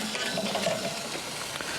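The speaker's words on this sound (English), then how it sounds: "While those are sizzling there" Steady, close sizzling of meat on a hot Weber Kettle charcoal grill, a continuous crackling hiss without pauses.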